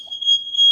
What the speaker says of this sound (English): That's a fire alarm.